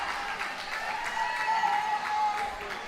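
A crowd applauds and cheers at a center-court pickleball match at a National Pickleball League event in Columbus, a dense, steady clatter of clapping that swells slightly midway and holds to the end.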